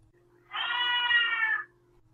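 A cat meows once in a long, drawn-out call in a quiet scene from a French children's audio story, heard clearly and alone against a faint low hum.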